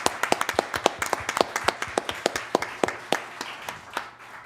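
A small group claps in quick, uneven bursts that thin out toward the end, with no voices over it.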